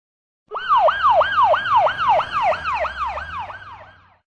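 An ambulance siren wails in rapid rising-and-falling sweeps, about a dozen cycles in a row, loud and close before fading out slightly toward the end.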